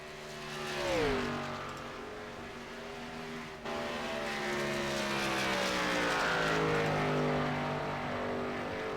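A street stock race car, the number 94, runs laps around an oval track at a race event. Its engine sweeps past with a falling pitch, then a steady loud drone holds as the car keeps circling, with no talk.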